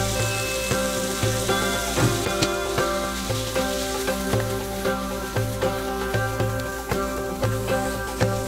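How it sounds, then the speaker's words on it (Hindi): Bell pepper sizzles and fries in a pan, a steady crackling hiss with rhythmic scraping and stirring knocks recurring every second or so, close and fairly loud. "अब शिमला मिर्च पैन में डाल दें और थोड़ा सा और पकाएं।"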